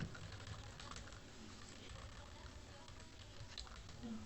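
Typing on a computer keyboard, a quick continuous patter of soft key clicks at close range under a low room hiss, with a voice speaking over it.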